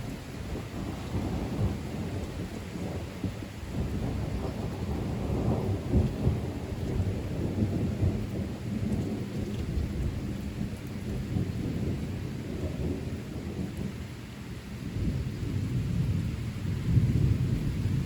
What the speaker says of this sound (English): The magic of a summer thunderstorm lies in the eerie interplay of low sounds, motion, and stillness.